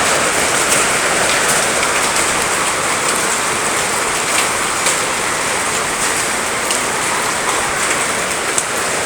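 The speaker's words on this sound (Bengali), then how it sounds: "এখানেও শিল ভিতরে পড়তেছে, দেখেন অবস্থা দেখেন" Hail pours down inside a building's second floor at Siraj Plaza as a loud, dense, unbroken patter of countless small impacts lasting the whole stretch.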